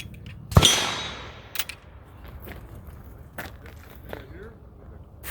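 A single sharp, loud shot from a Trailblazer Pivot firearm at an outdoor shooting sports showcase, ringing out briefly, followed by quieter clicks and handling noise.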